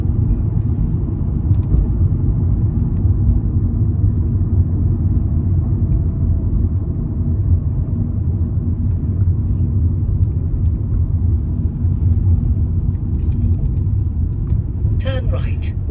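Car being driven on a mock driving test in Goodmayes, a steady low engine and road rumble inside the cabin, continuous for the whole stretch with faint clicks near the end.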